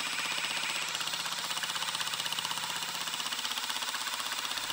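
A Milwaukee M12 Surge impact driver runs in its lowest mode, hammering out a fast, continuous rattling pulse of impacts with a steady motor whine, close and loud throughout.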